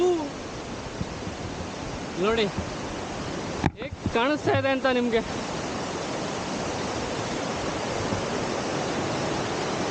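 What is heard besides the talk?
Hebbe Falls waterfall roaring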